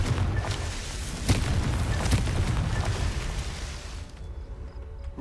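Confringo blasting spell explosions from Hogwarts Legacy, several dull booms and bursts repeating over a rumbling bed, fairly loud and close, then dropping away into quieter background near the end.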